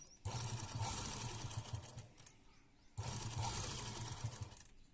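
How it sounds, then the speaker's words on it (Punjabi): A sewing machine runs long stitches around a garment neckline in two close, fairly loud bursts of whirring, with a short pause between them. "ਆਪਾਂ ਵੱਡੇ ਵਖੇ ਨਾਲ ਤਾਂ ਸਲਾਈ ਲਾ ਰਹੇ ਆ"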